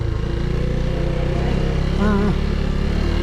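A small scooter engine drones steadily nearby on a Philippine road, idling or rolling past, with a brief high whine in the middle.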